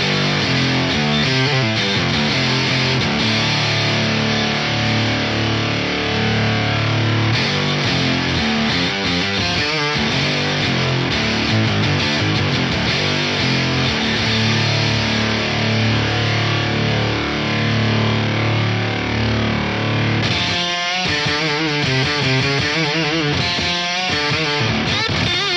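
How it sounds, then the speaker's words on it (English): A harsh, buzzing synthesizer with multiband distortion plays continuously and loudly, its gritty tone shifting partway through as the distortion changes. "I could use less distortion and keep it cleaner and then distort the higher bands even more"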